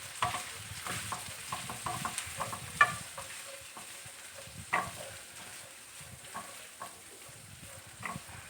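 Mixed vegetables stir-fried in a pan for Malaysian kampung fried rice give a soft, steady sizzle broken by sharp spatula scrapes and clinks, fairly quiet and close, with no talking.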